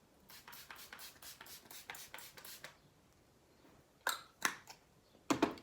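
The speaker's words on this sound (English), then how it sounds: "I'm just going to spray that all over my face." A series of quick, soft bursts of setting spray on a face in a rapid rhythm, then a pause and a few sharper, louder sprays, close up with no talking.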